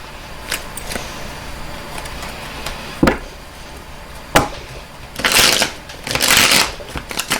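Tarot cards being shuffled by hand, a deck that is bent and hard to shuffle: scattered sharp snaps and taps, then two longer riffling bursts near the end, close and fairly loud with no talk.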